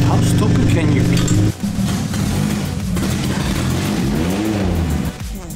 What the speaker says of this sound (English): Sounds like a V8.